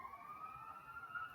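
Siren sounding outside, a steady high wail heard at a distance over low background rumble, with no talking.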